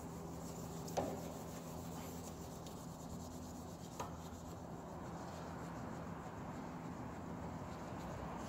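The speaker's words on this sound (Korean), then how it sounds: "사포 2000방." Damascus bowie knife blade being sanded by hand with 2000-grit sandpaper, a faint, continuous soft rubbing rasp with a couple of slightly sharper scrapes, no talking.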